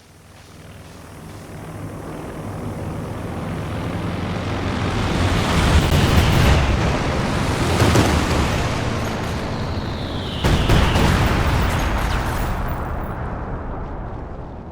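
Aircraft in Company of Heroes 2 drone overhead while dropping fragmentation and PTAB bombs, building into a loud, continuous roar with bursts of blasts near the middle and a fresh surge toward the end.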